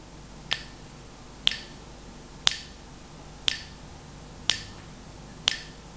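Finger snaps keeping time during a children's music practice lesson, six crisp clicks evenly spaced about one second apart, close and clear over near silence.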